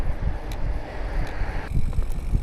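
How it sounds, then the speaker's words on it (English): Wind gusting across a coastal car park along a bike trail, buffeting the microphone with a steady rushing roar and fluctuating low rumble throughout. "A bit windy."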